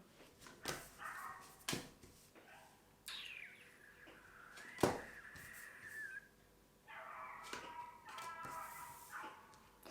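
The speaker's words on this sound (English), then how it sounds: "Excuse the dog." A dog whimpers and gives a few short yips and barks close by, with some high whining, over a quiet room.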